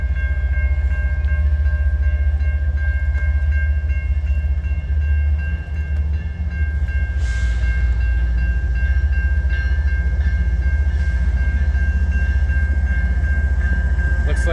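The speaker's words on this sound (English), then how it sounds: "We got a nice CN train here." A CN freight train rolls past on the tracks in Montreal, a loud, close, continuous rumble of wagons with a steady tonal whine and rattling throughout.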